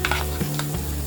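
Garlic frying in a pan for methi sabzi, a steady close sizzle with a couple of brief stirring scrapes, no voices.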